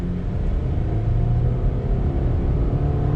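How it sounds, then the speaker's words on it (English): A 2020 Subaru Impreza pulls away from a dead stop, its engine a steady, loud low droning rumble with a faint rising tone, heard from inside the cabin. "Let me go ahead and do a little bit of an acceleration here."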